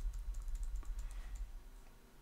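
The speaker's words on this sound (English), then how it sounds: "All we have to do is take the up arrow key on our keyboard." Repeated light taps on the up arrow key of a computer keyboard, soft close clicks at a quick uneven pace over a low steady hum, with no voice.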